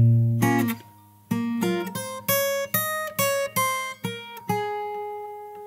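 Fingerstyle acoustic guitar picks the opening bar of a song: a low held note, then a brisk run of about a dozen plucked notes and short chord stabs, ringing clearly and close with no talking.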